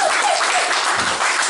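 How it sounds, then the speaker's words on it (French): Audience applause at a family end-of-year party, a dense, loud burst of many hands clapping continuously without a break. "Sous vos acclamations, applaudissez."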